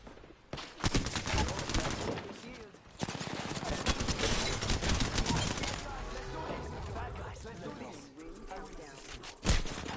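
Gunfire in the video game Apex Legends, dense rapid automatic bursts and scattered single shots that continue for about ten seconds, loud, with a player talking over parts of it.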